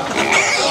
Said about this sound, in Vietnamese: hôm nay em hiểu sao lợn kêu rất bé nhá